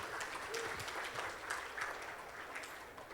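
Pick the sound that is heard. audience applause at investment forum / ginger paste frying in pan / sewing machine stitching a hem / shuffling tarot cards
audience applause at investment forum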